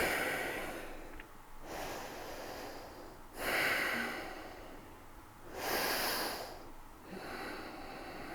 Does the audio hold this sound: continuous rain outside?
no